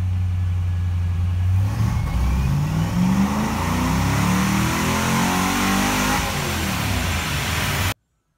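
A car engine on a dyno revs hard and climbs steadily in pitch for about eight seconds, loud and close, then cuts off abruptly into silence.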